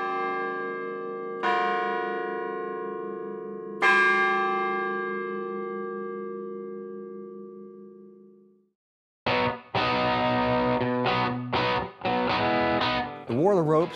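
Orton Chimes ring out on a college campus: two long, resonant bell strikes decay slowly, then after a brief pause a quicker run of chime notes plays a melody, loud and clear with no talking.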